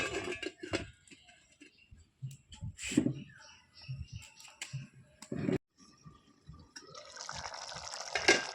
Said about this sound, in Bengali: এখানে আমি অল্প পরিমাণে একটু জল দিয়ে নেব।